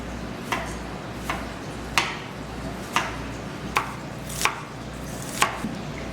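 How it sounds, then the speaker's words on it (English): A knife thinly slices onions for vegetable pakora, giving about seven crisp, evenly spaced chopping taps on a board, near and distinct over a faint background. "The first thing I'm going to start off doing is thinly slicing my onions."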